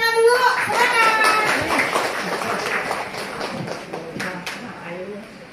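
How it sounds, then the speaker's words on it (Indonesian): Audience at a baking demonstration in Sukabumi clapping hands, a brief burst of applause mixed with children's voices and chatter, fading into scattered taps and talk. "Tepuk tangan dulu."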